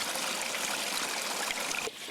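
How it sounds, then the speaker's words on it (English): Steady broadband rush of water trickling and splashing from a pipe along a river, close by and continuous, with no voices. "The water's coming from a pipe."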